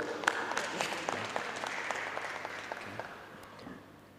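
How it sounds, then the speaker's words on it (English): Scattered hands clap at a meeting, a moderate round of applause that thins and fades over several seconds. "they deserve a round of applause"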